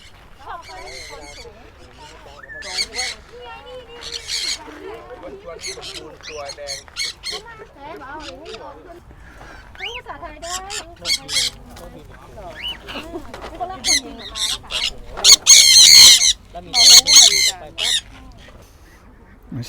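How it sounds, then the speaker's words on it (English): Macaws calling in free flight at an outdoor bird farm, harsh squawks bursting repeatedly over about twenty seconds, loudest near the end, with people talking throughout. "Look at this lovely macaw flying around."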